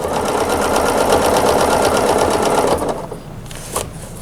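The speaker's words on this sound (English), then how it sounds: "Row of stitching." A sewing machine stitches a row on a table runner, its rapid needle clatter loud and close for about three seconds before stopping, followed by faint handling noise and a small click.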